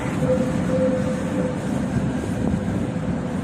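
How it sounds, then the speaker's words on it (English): Steady ambience fills Prague main train station, a broad rumble of rail traffic and hall echo with a faint sustained tone, continuous and without talk. "if you go to Prague by train, you will most probably arrive to this place, which is the main train station"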